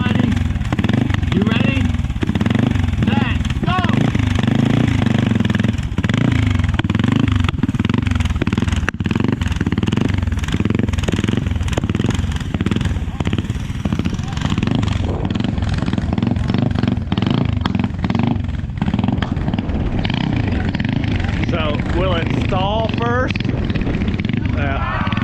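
Mini bike engines rev and buzz at the start of an ARMHA motorcycle race, forming a loud, continuous, rising and falling drone as voices talk over it the whole time.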